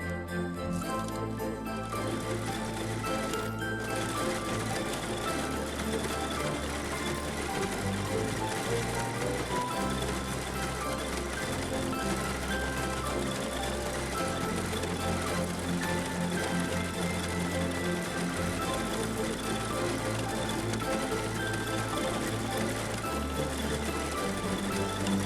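An embroidery machine stitches an in-the-hoop mini Christmas stocking with mylar tacked down. Its rapid mechanical needle chatter runs steadily and continuously at moderate volume, with a low motor hum that shifts slightly in pitch as it works.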